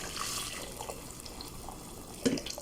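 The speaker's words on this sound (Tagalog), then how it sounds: "Lalagyan natin ng tubig siya." Water poured into a cooking pot of chicken kabsa broth, a light splashing trickle with a brief louder splash near the end, close and fairly soft, with no speech.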